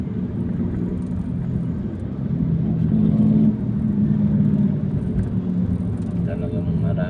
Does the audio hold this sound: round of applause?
no